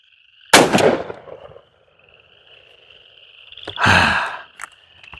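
Two loud shotgun blasts firing Winchester Longbeard TSS turkey loads at an outdoor target range, each a sharp close boom with a trailing rumble, separated by about three seconds over a faint steady high insect-like drone.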